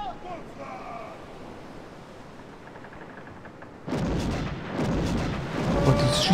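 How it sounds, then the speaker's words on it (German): Cannon fire from enemy Spanish ships aimed at the player's damaged ship in Sid Meier's Pirates!, a few booming blasts arriving in the second half over wind and sea-surf ambience. "die schießen sogar auf mich"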